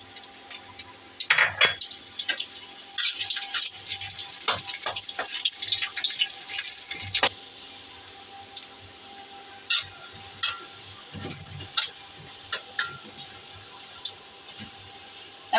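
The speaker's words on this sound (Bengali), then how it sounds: "এখন পেঁয়াজ ছেড়ে দেব, রসুন ছেড়ে দেবো, একসাথে দুটা ভাজবো।" Chopped onion and garlic dropped into hot oil in a heated pan for dal tempering, a loud steady sizzle that hisses strongly at first and then settles to a quieter fry with occasional stirring clicks.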